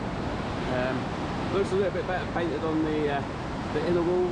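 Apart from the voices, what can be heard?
Gananoque River flowing in the background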